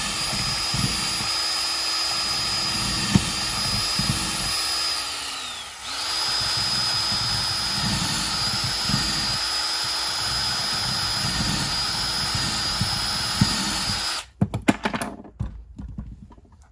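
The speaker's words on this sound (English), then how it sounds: "For now, I'm just drilling a couple of holes on each side so I can get these pegs in" An electric drill bores peg holes into a wooden cribbage board, its motor whining steadily under load for a long stretch with brief dips, then stopping and leaving a few scattered knocks and clatters.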